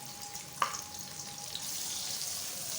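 Finely chopped onions hit hot oil for a chicken and potato curry, a soft sudden sizzle right after a brief clink, then a steady quiet hiss of frying.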